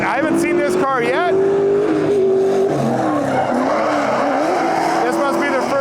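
A new Corvette drift car makes a run at a grassroots Midwest drifting event, its engine revving and wavering while the tires squeal loudly and continuously, with a voice talking over it.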